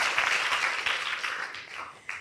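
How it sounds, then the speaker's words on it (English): Audience at a BBC Royal Institution Christmas lecture breaking into applause, a dense burst of many hands clapping that fades over a couple of seconds before a brief final swell. "a round of applause for our wonderful contributors to the Drake equation"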